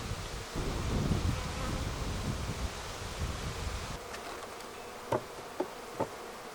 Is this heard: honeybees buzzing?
yes